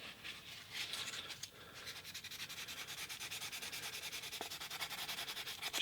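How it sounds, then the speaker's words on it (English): A Hot Wheels die-cast car body is wet sanded by hand with 1500 grit sandpaper, giving a close, steady run of rapid rhythmic rubbing strokes with a soft wet hiss and no talk. "I'm going to do some wet sanding first with about 1500 grit"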